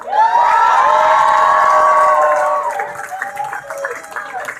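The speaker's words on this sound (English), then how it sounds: "applause for the incredible introduction by Grand Chief Stuart Phillips." A rally crowd applauds and cheers loudly, with whoops and shouts over dense clapping, before voices take over as the noise settles.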